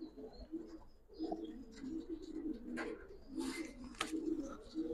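Giribaz pigeons, Kaldom breed among them, cooing softly in repeated low throaty phrases close by, with a few faint chirps and rustles in a quiet setting.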